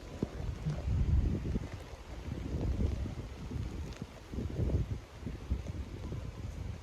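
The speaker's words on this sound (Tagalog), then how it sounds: "hangin lang yung malakas" Strong gusty typhoon wind buffeting the microphone in low rumbling bursts, rising and falling over several seconds with no voices.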